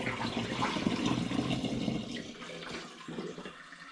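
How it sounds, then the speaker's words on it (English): Spring water pours steadily into a glass demijohn of home-brewed apple cider vinegar made from dehydrated apple pomace, a close, continuous splashing gush that thins and fades toward the end. "I'm going to top up with spring water."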